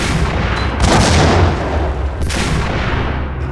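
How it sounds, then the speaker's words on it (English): Grenades from a grenade launcher exploding in the shooter game Max Payne, a couple of heavy booming blasts over a dense rumbling background, loud and close. "It's a grenade launcher, so it should be grenades."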